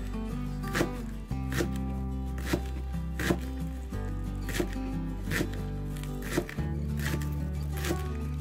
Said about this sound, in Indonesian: Kita iris tipis, kecil-kecil.